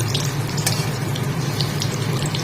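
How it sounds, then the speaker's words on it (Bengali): Fish roe from rui or katla frying in hot oil with a little chilli, a steady close sizzle with faint crackles and no voices. "ওই জন্য একটু লঙ্কা কম দিয়ে ভেজে দিচ্ছি 4-5টা"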